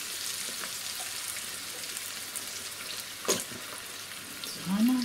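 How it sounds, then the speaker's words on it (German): Salmon sizzles in a frying pan as cream goes in, with a continuous close crackle and a short stirring scrape near the end. "dann machen wir jetzt da einfach Sahne mit rein"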